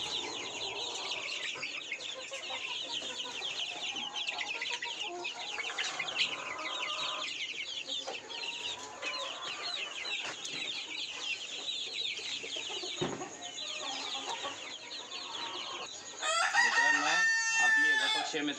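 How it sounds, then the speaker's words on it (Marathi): A brood of sixty-five twenty-day-old pure Gavran desi chicks peeping continuously in a small poultry brooding setup, a dense high chirping chorus that grows louder near the end. "ही आहेत आपल्याला 20 दिवसाची प्युअर गावरांची 65 पिल्ले"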